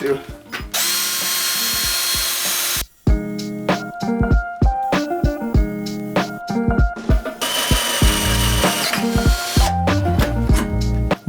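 A Vitals cordless drill drives a 10 mm bit, giving two loud, sustained whirring bursts, one early and one later, separated by ratcheting clicks and handling knocks at close range.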